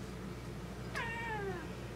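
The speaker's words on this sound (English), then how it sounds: "So she's pretty old, but she's a good kitty cat." An elderly cat of about 18 or 19 gives a single rising-then-falling meow, fairly close, over a low steady indoor hum.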